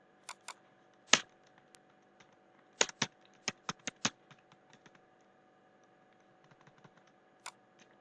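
Keystrokes on a computer keyboard rattle out in irregular bursts, some louder clacks standing out from lighter taps, near and alone against a quiet background.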